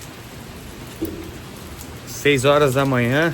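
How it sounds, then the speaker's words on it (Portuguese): Early morning rain falls as a steady soft hiss, heard alone at first and then continuing beneath someone speaking Portuguese. "Chuva, aquele barulhinho de chuva"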